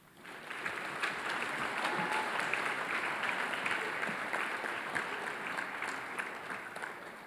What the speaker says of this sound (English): Let's clap and congratulate them on this honor.